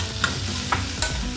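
Boiled potatoes frying with turmeric in a pan, stirred with a few sharp scraping strokes over a steady close sizzle, no voices.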